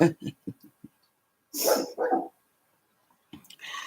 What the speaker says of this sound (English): You hear my doggies?